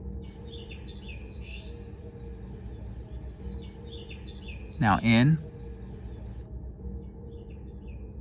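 Small birds chirp and tweet in the background ambience of a film soundtrack, high and steady throughout, with a brief louder burst partway through and a short spoken phrase near the start.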